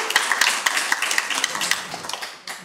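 A church congregation claps after a sermon: a scattered, fairly close run of hand claps that thins out over a few seconds.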